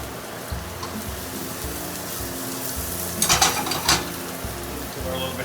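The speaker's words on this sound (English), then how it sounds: "Saute those a little bit first." Asparagus, shallots and garlic sauté in olive oil in a pan, giving a steady soft sizzle with faint stirring scrapes and a couple of brief louder crackles midway.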